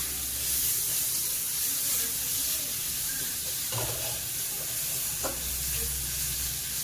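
Grated ginger fried with garlic and onion in a pan makes a steady close sizzle throughout, with a few soft stirring scrapes and clicks of the spoon.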